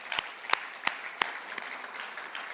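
A church congregation at a Sunday service gives faint applause, heard as sharp, evenly spaced claps about three per second that soften toward the end.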